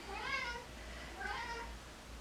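A house cat lets out two drawn-out, insistent meows in a quiet indoor room, close by and moderately loud, with a low steady hum underneath.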